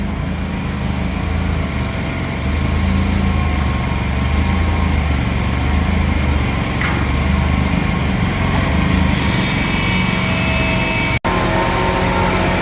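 A tractor engine runs steadily while moving a wagon, a loud continuous droning hum with no talk, briefly cut by a sharp click near the end.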